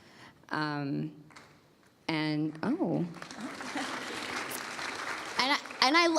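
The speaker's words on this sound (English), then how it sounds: "Whoever started that clap, I know you've been starting all the claps" Audience clapping during a Q&A evening with a guest, breaking out after a few short bursts of speech and building into sustained applause mixed with cheers, with voices popping up near the end.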